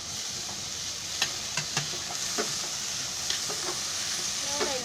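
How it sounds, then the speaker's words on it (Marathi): Tomatoes tipped into a pan of oil-free frying potatoes for aloo matar bhaji give a steady soft sizzle, with scattered stirring clicks and scrapes and a few sharper ticks, and no talking. "मग आता त्याच्यामध्ये टोमॅटो टाकते."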